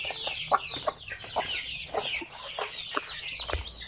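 Basilan and Zampen crossbred native chickens clucking in a rapid, irregular series of short, close clucks and squawks, with faint background noise and no speech.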